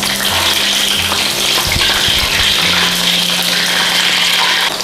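Pork marinated in fish sauce frying in hot oil gives a steady, dense sizzle that holds at an even loudness throughout, with a few soft low knocks partway through.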